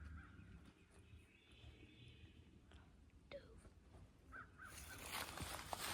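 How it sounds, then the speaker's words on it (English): A crow caws outdoors, the faint calls coming from a distance over quiet rustling and soft whispering voices. "Crow."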